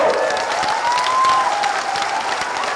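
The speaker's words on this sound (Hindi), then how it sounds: "जोर से ताली बजाओ।" Large crowd claps loudly and steadily at an outdoor election rally in Seraikela, Jharkhand, with some cheering mixed in and a thin whistle-like tone rising briefly over the applause.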